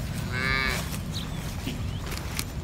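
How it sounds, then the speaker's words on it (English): Cattle on a permaculture farm low close by, a long drawn-out moo early on over steady outdoor background noise, then quieter rustling without further calls. "Oh, there's our new cows."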